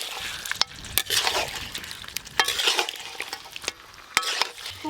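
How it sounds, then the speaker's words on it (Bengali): Fried potatoes are tossed into goat meat in a hot pan, with repeated spatula scrapes and occasional sharp clinks over a continuous sizzle, close by and with no talking. "এবার ভেজে রাখা আলুগুলো দিয়ে দেবো"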